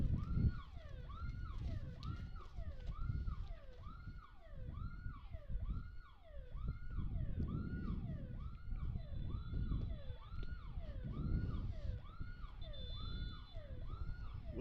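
A police siren near an amateur soccer championship broadcast in Walpole wails in steady, repeating rising-and-falling sweeps for the whole stretch, fairly close and continuous over a low background rumble.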